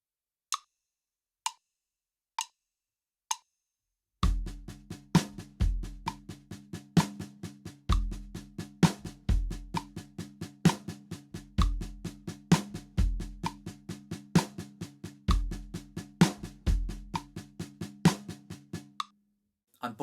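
Drum kit playing a song's groove: a few sparse count-in clicks, then steady kick and snare hits in a regular rock pattern under a faint sustained chord, ending with a cymbal-like hit.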